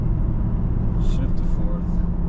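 A Toyota Tacoma with a manual gearbox pulls away as the clutch comes out, a steady low engine and road rumble from inside the cab, continuous and fairly loud, with faint clicks and rattles on top.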